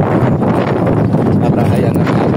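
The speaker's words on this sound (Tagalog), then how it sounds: "ang lakas ng hangin" Strong wind buffets an outdoor microphone on a rough provincial road outside Jeddah, producing a loud, steady broadband rumble that fills the whole stretch with no clear voice.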